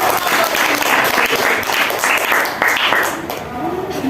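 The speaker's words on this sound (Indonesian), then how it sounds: "Oke, tepuk tangan dulu." A class group applauds after a presentation, with dense, continuous clapping close by that holds steady throughout and tapers slightly at the end.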